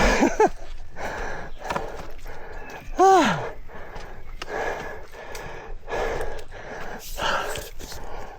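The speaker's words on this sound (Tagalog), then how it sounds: "Grabe hingal ko ah." Heavy, ragged panting and gasping breaths from a hiker on a river trail near Ipo Dam, close and irregular, with a brief voiced groan partway through and faint background noise.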